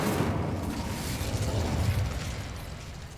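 Casting the Incendio fire spell in Hogwarts Legacy unleashes a loud, rumbling burst of flame that roars steadily for about three seconds before tapering slightly, with no talking.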